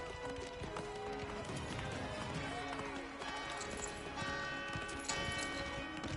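Pony galloping in a video game, a steady drumming clip-clop of hooves under layered game music and effects, with an excited voice talking over it.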